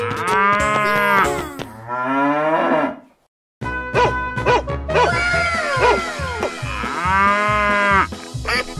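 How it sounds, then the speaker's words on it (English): Loud, close cow moos, several long drawn-out bellows with a brief silence partway through, set among cartoonish animal sound effects with no speech. "Cow."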